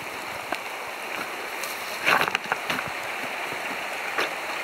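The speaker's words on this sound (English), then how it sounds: "This is the creek." A clear creek flows at a trail crossing on a four-mile hike, producing a soft, steady wash of running water with a few brief splashy bursts in the middle and no talking.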